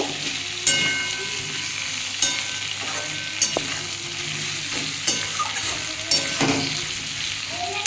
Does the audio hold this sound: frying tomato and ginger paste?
yes